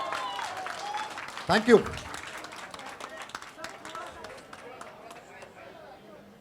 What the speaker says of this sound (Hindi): शुरुआत जो है इस सेलिब्रेशन की आप लोगों की तालियों की गड़गड़ाहट से होनी चाहिए